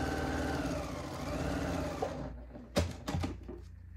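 A sewing machine hums and stitches fabric in a steady close run that stops about halfway, followed by a few sharp handling clacks.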